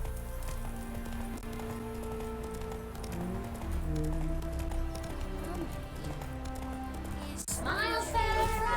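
Geralt's horse Roach galloping in The Witcher 3: Hearts of Stone, a soft rhythmic hoof patter under game music and a spoken voice, with a brighter burst near the end.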